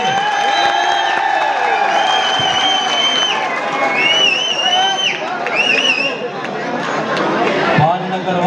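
A crowd cheers and claps during a kabaddi semi-final match, a steady loud roar of voices and applause that continues throughout, with an announcer talking over it.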